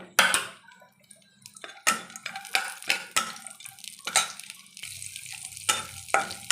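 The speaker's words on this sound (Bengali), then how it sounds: "আমি এখানে কিছু কাজু আর কিশমিশটা ভেজে নেব উপর থেকে দেওয়ার জন্য।" Cashews and raisins fry in a pan of oil while a spoon stirs them, making repeated sharp scraping strokes against the pan over a soft sizzle, close and uneven in rhythm.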